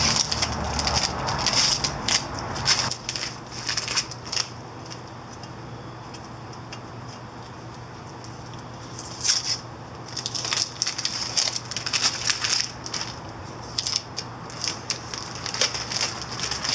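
Masking tape being peeled off a Yamaha Virago 250 (XV250) motorcycle part during painting: close, crackly ripping bursts in irregular spurts, with a quieter stretch midway before the tearing resumes, no talking.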